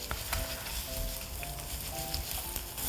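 Garlic and soybean paste frying on low heat in a pan, a steady soft sizzle with small crackles and occasional stirring scrapes, close up and continuous.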